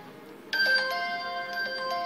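An iPhone X ringtone plays as a bright, clean series of chiming synth tones that begins abruptly, then rings out with sustained bell-like notes and a couple of repeated strikes, clear and alone.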